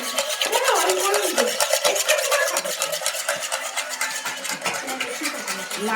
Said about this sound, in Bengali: আমরা ডিমটাকে ভালো করে ফাটিয়ে নিচ্ছি